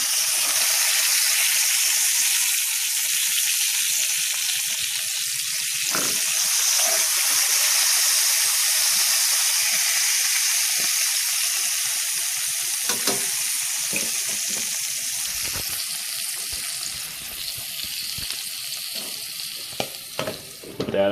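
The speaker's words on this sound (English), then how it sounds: "I'm frying up the last 2 sausages." Two boiled Polish sausage links sizzling in a greasy pan, a loud, steady hiss of frying with occasional pops and crackles, close up and with no talking.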